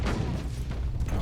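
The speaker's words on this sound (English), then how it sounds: "we throw a grenade here" A grenade goes off in Warhammer 40,000: Inquisitor, giving a short burst of heavy booming blasts that stay dense and loud through the whole moment.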